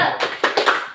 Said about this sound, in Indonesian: Ayo siap sekali lagi tepuk semangat.